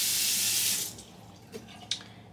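A faucet runs briefly to wet a small eyelash shampoo brush, a bright hiss of water that cuts off within a second, followed by faint handling clicks in a quiet room.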